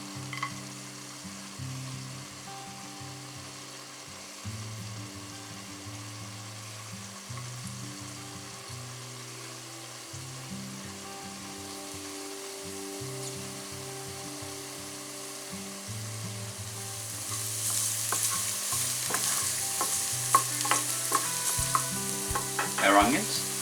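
Garlic frying in olive oil for a Cypriot pasta bake, a steady low crackling sizzle with occasional stirring, growing louder and brighter toward the end, with no voices.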